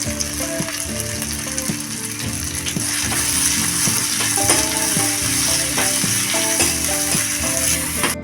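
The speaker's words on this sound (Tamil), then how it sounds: "இதில் ஒரு தக்காளியை கட் பண்ணி சேர்த்துக்குங்க கூடவே கொஞ்சம் கருவேப்பிலை சேர்த்து வதக்கிக்கலாம்" Chopped tomato and curry leaves sauté in a hot pan, giving a steady loud sizzle mixed with repeated scraping and clattering as a spoon stirs against the metal.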